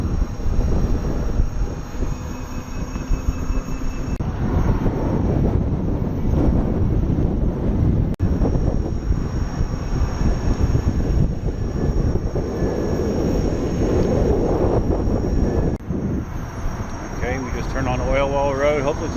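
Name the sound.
strong wind blowing into the microphone while riding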